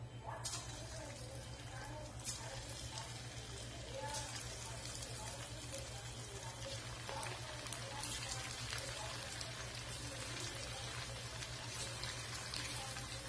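Marinated chicken pieces deep frying in hot oil, a dense, steady crackling and popping bubble that holds level and fairly close throughout, with a low hum underneath.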